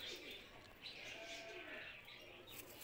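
Faint cooing from grey pigeons kept in a home loft, soft repeated calls beneath steady background noise, with a quiet voice nearby.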